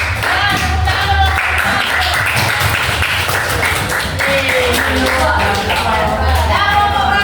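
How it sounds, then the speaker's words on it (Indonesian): Classroom group applauding students of group 1, a steady patter of many hands clapping throughout, loud and dense, with some voices talking underneath. "silakan beri tepuk tangan dulu kelompok 1"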